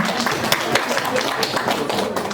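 Brief scattered clapping from a seminar audience of parents and teachers, a moderate patter of hands under faint talk.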